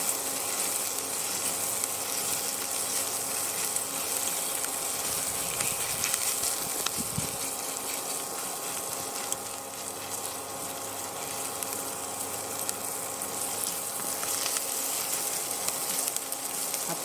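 Chana dal and urad dal frying in hot oil for an adai batter, a steady close sizzle running throughout with faint mechanical ticking underneath and no talk.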